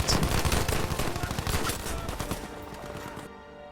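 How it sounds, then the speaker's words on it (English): Suomi KP/-31 submachine gun firing in Battlefield 5, a rapid, loud automatic burst of closely spaced shots lasting about three seconds before cutting off abruptly. "a Battlefield 5 weapon from Finland called the Suomi KP31, a submachine gun for the medic class"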